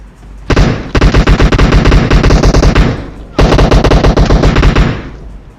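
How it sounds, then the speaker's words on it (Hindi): Automatic gunfire in the mobile battle royale game PUBG Mobile, two loud, close bursts of rapid, evenly spaced shots, each lasting a couple of seconds with a short gap between them. "क्योंकि यहाँ से फायरिंग आई थी"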